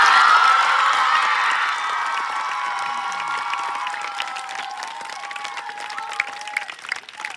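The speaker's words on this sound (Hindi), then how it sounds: "जोर से तालियां बजाइए किशन जी के लिए।" A school audience of children at a farewell function applauds for Kishan ji, loud dense clapping and cheering that gradually thins into scattered claps and a few shouts.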